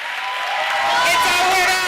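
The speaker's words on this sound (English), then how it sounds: "Huge round of applause for our Queer of the Year" An audience at a live awards ceremony in Birmingham Town Hall bursts into applause, swelling into a dense wash of clapping that holds strong for the rest of the short stretch, with some voices mixed in.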